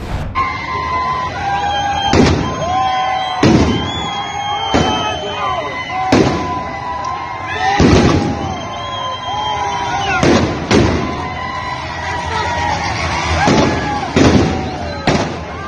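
Loud firecrackers thrown by protesters at police in Iran burst again and again at irregular intervals, about a dozen sharp bangs echoing over a shouting crowd.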